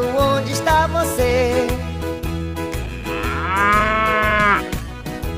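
A cartoon cow lowing over a children's song backing track, with a bright melodic instrumental and a drawn-out mooing voice rising in the second half.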